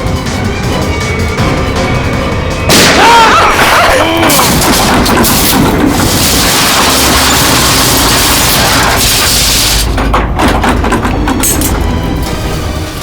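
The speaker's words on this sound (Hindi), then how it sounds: "लिफ्ट के अंदर गोली चली?" A gunshot fired inside a lift in a TV crime drama, with a loud burst followed by a dense, roaring rumble that fills the enclosed space, sustained and heavy throughout.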